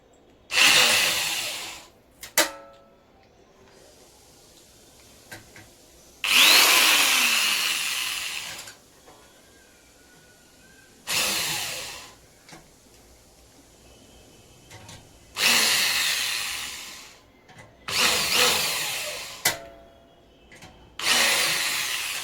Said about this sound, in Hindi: इसको ड्रिलिंग करते वक्त बहुत सावधानी से ड्रिलिंग करना, क्योंकि इंस्ट्रूमेंट आपका डैमेज ना हो